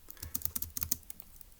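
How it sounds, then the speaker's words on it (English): Quick, light clicking of keys on a computer keyboard as notes are typed for a Turing Machine logic puzzle, a soft close flurry of taps with no voices. "let's go ahead and type that up in our notes"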